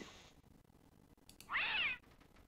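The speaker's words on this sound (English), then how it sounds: "You grab the nasty cat by the scruff of its neck." Nimble the cat in King's Quest III lets out one short, bright synthesized meow when grabbed, following a brief electronic blip, against an otherwise quiet background.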